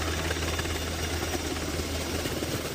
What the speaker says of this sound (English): A Black Hawk helicopter comes to the rescue last summer during flooding at Havasupai Falls